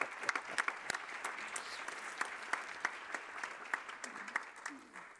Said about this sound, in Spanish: quisiera que se le dé un aplauso